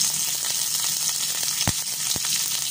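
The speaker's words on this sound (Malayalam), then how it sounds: "ഇതൊക്കെ നന്നായിട്ട് വഴറ്റി കൊടുക്കുക." Ginger, garlic, curry leaves and green chili sauté in a hot pan, giving a close, continuous sizzle with a few soft stirring scrapes and no talk.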